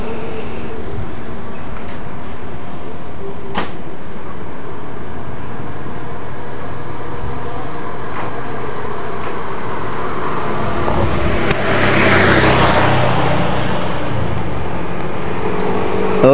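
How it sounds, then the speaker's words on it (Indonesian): An automatic scooter engine runs steadily at idle in a workshop, a continuous close hum and drone holding for the whole stretch with no talk. "Kemudian kita hidupkan untuk motornya"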